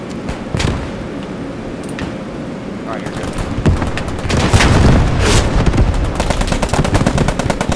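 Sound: machine gun fire in Squad 44 video game

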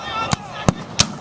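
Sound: Gatling gun firing at a Civil War reenactment

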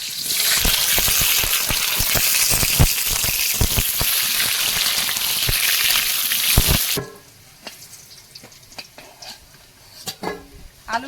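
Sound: potatoes frying in oil in a wok

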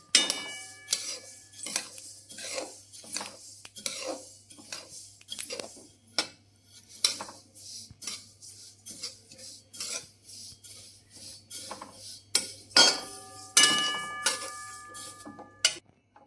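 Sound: sesame seeds being stirred in a pan while roasting

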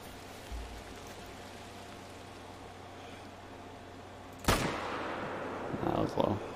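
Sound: rifle shot in video game theHunter: Call of the Wild

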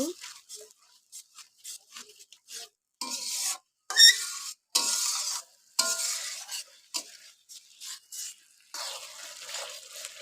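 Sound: stirring and frying masala for rohu fish curry

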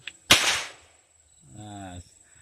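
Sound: toy cap gun shot

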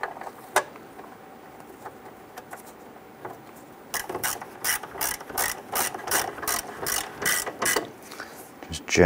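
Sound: ratchet snugging expansion tank mount on Ford Mustang

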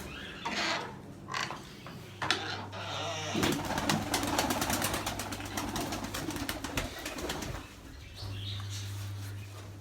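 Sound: Miro pigeons cooing

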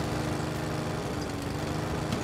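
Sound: lawn mower mowing grass

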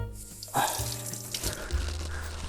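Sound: knife being washed under cold running water

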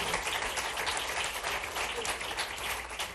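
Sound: audience applause

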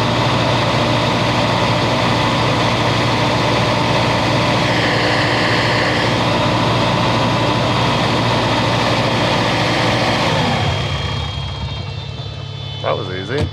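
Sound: truck engine running at idle

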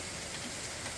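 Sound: steady rain from Tropical Storm Debby

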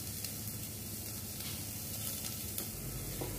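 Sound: onions sautéing with salt in pan for green peas soup

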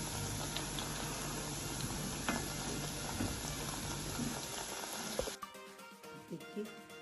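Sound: nimki snacks frying on a low flame

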